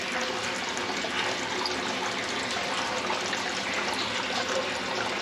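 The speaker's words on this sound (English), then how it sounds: "thermal water's coming up through that" Warm thermal spring water at Leukerbad, Switzerland, trickles and bubbles up through a rusted metal outlet, a steady close, continuous watery wash with no talking.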